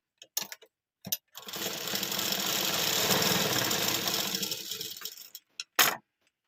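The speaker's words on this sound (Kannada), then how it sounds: "ಈ ಕಡೆನೂ ಹಾಗೆ ಒಂದು ಫೋಲ್ಡ್ ಮಾಡಿ ಸ್ಟಿಚ್ ಹಾಕೊಂಡ್ಬೇಕು" A sewing machine runs in one continuous burst of stitching on folded fabric, a close, steady mechanical whir lasting several seconds, with a few short handling clicks before and after.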